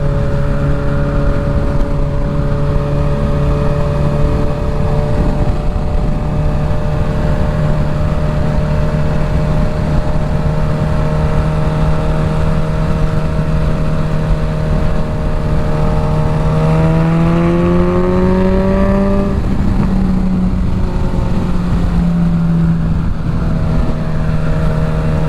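A 2025 Suzuki GSX-S1000 motorcycle fitted with a full Dominator exhaust drones steadily for a long stretch, then its pitch climbs and dips as it accelerates and shifts. The sound is loud and continuous, with wind noise and no talk.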